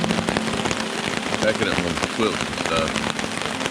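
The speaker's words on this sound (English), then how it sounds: "It's raining pretty good now." Steady rain pattering on a Kelty tent during winter kayak camping along the Current River, a dense close hiss of drops drumming on fabric throughout, with a person speaking briefly over it.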